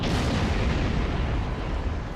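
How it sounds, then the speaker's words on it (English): In the video game Star Trek Online, a starship's singularity core explodes with a dense, roaring boom and a rumbling blast that sustains loudly throughout, then fades slightly at the end. "that is the explosion from a singularity core"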